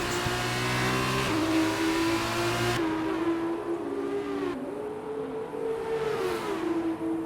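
Formula 2 race cars at the Jeddah street circuit, a sustained high engine drone shifting pitch as the cars pass and change gear, moderately loud with no voices over it.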